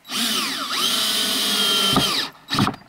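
A power drill drives screws through wood offcuts joining beams for an off-grid compost toilet, a loud sustained whine that rises and dips in pitch, then cuts out briefly and bursts again at the end.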